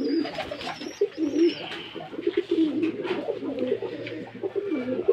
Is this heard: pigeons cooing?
yes